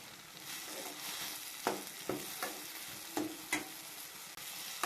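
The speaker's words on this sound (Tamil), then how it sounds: "கூடவே வதக்க போகிறேன்." Tamarind sautéing in a pan for coriander chutney, with a steady soft sizzle broken by several sharp scraping stirs of a spoon against the pan, close and alone with no talk.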